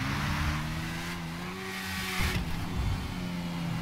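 Yamaha R6 motorcycle in the video game GTA V, engine accelerating in fourth gear, a loud, steady high-revving whine that climbs in pitch and holds strong throughout with no talking.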